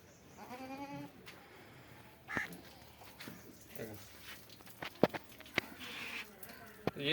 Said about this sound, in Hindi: ये हमारी मुतासरा बकरी है